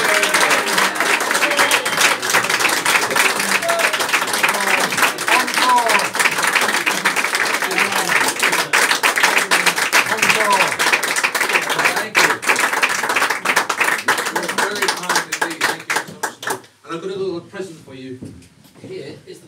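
Live audience applause and clapping at a card magic show, dense and sustained, mixed with voices and crowd noise, then thinning into scattered claps near the end.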